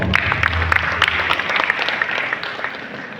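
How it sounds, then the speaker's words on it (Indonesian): Loud, dense applause from an audience at the opening of an education program for teacher training, a steady wash of clapping that lasts the whole stretch with no voices over it. "Aplaus juga untuk Ibu Alit."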